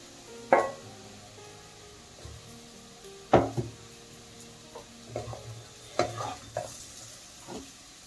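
Mushrooms and potatoes frying in oil in a home kitchen, a faint soft sizzle broken by several sharp spatula clanks and stirring scrapes against the pan, close and sparse, no voices.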